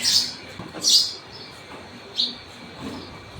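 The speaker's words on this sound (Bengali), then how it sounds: "এদিকে পাখির এটা সাউন্ড শুনো তুমি তাই করোর বালকনির উপরে দেখো কীরকম পাখির আওয়াজ" High, sharp bird chirps ring out in short bursts from a balcony, a few spaced apart over quiet background noise, fairly close.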